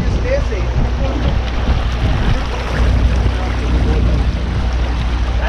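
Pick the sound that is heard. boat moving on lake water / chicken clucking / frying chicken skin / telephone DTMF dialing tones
boat moving on lake water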